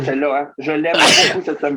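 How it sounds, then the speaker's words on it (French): A single sharp sneeze bursts out in the middle of French conversation, loud and close, with talk continuing right before and after it. "À tes souhaits"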